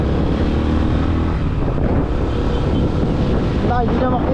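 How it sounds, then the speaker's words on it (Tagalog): Strong wind buffets and roars across the microphone in a constant loud rush, with a brief voice near the end. "Ang lakas ng hangin."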